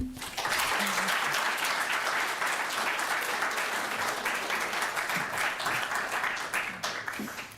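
An audience at a university memorial poetry lecture claps warmly to welcome Rosanna Warren, a sustained, dense round of applause that fades slightly near the end.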